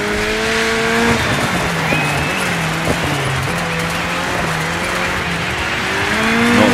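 A rally car in the Dirt 5 racing game accelerates hard, its engine whining and shifting pitch through gear changes while tires squeal and skid, loud and continuous throughout.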